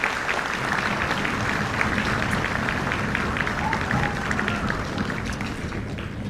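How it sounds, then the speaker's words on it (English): A school concert audience applauds steadily for a band program at a middle school, a dense, even wash of clapping with some crowd murmur throughout. "So a huge round of applause to the WPABC"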